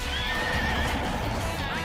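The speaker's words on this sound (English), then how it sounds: "Win events to get new horses, then breed them to raise the next generation of ideal steeds" A horse whinnies with clip-clop hooves in the Pocket Card Jockey: Ride On video game, a continuous, fairly loud game sound effect with no talking.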